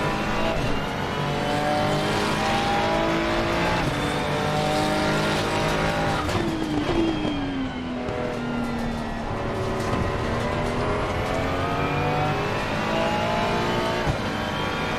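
Porsche race car in a VR racing game, its engine droning and revving through rising and falling gear pitches, with tire squeal and brief skids, loud and continuous throughout.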